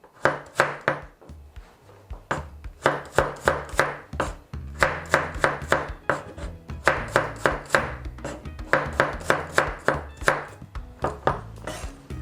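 A knife slices garlic on a cutting board for a European-style pork belly dish, giving crisp, close chopping strokes in quick rhythmic bursts with short pauses between runs.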